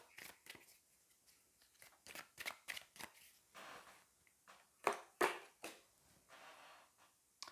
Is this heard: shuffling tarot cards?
yes